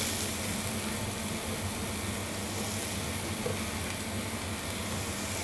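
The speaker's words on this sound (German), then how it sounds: "Für die Fülle nehmen wir eine Zwiebel, geben das in eine heiße Pfanne mit Olivenöl" Chopped onion and mushrooms fry in olive oil in a hot pan, giving a steady, close, broadband sizzle with a constant hiss and faint crackle and no voices over it.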